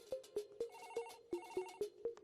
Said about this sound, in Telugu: రేయ్, ఫోన్ మోగుతుంటే ఎవరు తీరేంట్రా?